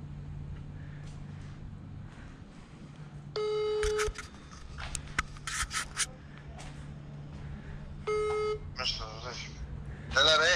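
A telephone ringback tone repeats in two steady electronic bursts with a pause between them, heard indoors at a shop where car body kit parts and front fenders are unpacked, with rustling and scraping nearby.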